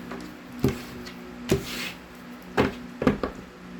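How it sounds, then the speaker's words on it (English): Tarot cards shuffled and split by hand for a reading, giving a few distinct soft slaps and riffles at irregular intervals, close up and fairly quiet with no talking. "Let me get you some good shuffles in"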